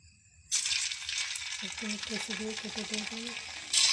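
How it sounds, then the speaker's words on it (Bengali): Rice kurkure dough is pressed into hot oil and bursts into a loud, bubbling sizzle after a brief quiet start, with a faint voice murmuring beneath and a fresh surge of crackle at the end. "এবার এই গরম তেলের ভিতর এটা আমরা দিয়ে দেবো"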